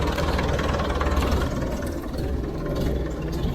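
A Hesston 620 windrower engine idling after sitting ten years, a steady, fairly loud low rumble with a slight knock running evenly throughout, no voices.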